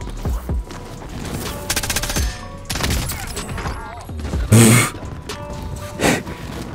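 Bursts of shotgun fire from a game, several sharp shots with mechanical clacks in between, one especially loud blast partway through.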